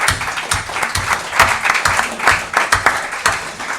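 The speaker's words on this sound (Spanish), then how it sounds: "Un aplauso, ¿no?" An audience at a book presentation applauds, a loud, close burst of many hands clapping in a quick, uneven rhythm that carries on throughout.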